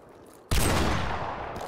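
A sudden loud burst of gunfire erupts in the multiplayer game Deceit after a brief quiet moment, followed by a sustained, slowly fading roar.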